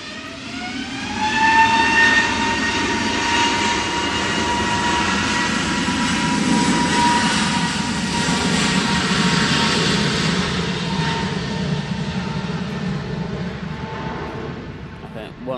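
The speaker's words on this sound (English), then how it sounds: "Emirates, take off lights just put on. So this one's going to be rolling any second now. Yep, starting to move." Emirates airliner beginning its takeoff roll at Manchester Airport in stormy crosswinds, a loud sustained jet engine roar with a rising whine early on, heard from a distance with wind noise throughout.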